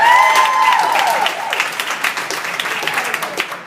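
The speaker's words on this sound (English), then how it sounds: "round of applause there, ladies" A round of applause for a champion girls' cross-country team at a school sports banquet, with a crowd's clapping loudest at the start and then thinning into scattered claps, with a few voices mixed in.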